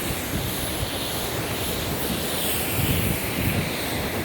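Ocean waves wash onto a beach at Punta Cana in the Dominican Republic as a steady, loud surf roar. Gusty wind buffets the microphone throughout and no one talks.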